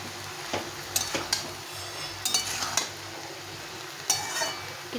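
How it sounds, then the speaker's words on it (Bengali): A paste of coriander, cumin, green chilies and ginger is sautéed and stirred in a pan, with soft sizzling under intermittent scraping and clinking utensil strokes. "কিছুক্ষণ সময় কষিয়ে নিতে হবে।"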